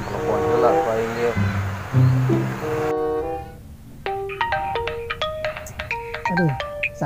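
A telephone ringtone plays a bright, repeating electronic melody of quick beeping tones in a comedy setting, following a stretch of voices and music and sounding clearly up front.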